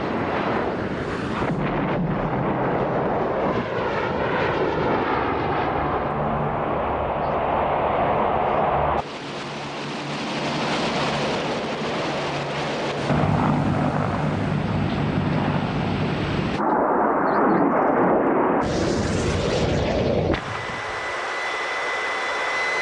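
Harrier vertical-takeoff military jets fly in to attack, their roaring engines loud and sustained across the whole stretch, with abrupt shifts between passes and heavy wind buffeting.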